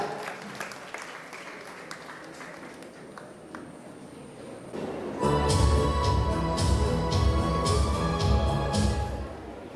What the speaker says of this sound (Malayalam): അദ്ദേഹത്തെ കൈയടിച്ച് പ്രോത്സാഹിപ്പിക്കുക